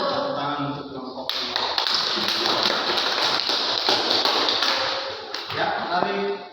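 Classroom students applauding a group after its presentation: a murmur of voices, then a sudden burst of brisk clapping that carries on for several seconds and fades near the end.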